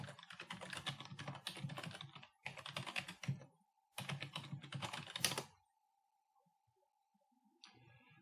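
Rapid, close keystrokes on a computer keyboard enter a username and password in three bursts of quick clicking with short pauses, then fall quiet under a faint steady tone.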